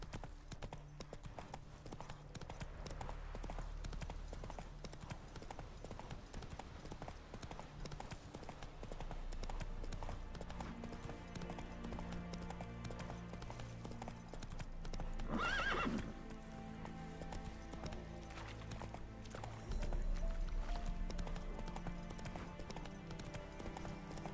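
Horse hooves clip-clop at a steady gallop in The Witcher 3 video game, with a whinny partway through, set against a continuous game music and ambience bed.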